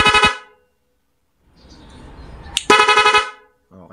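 A double contact car horn gives two loud, close honks separated by a short quiet gap and some low rumble in between.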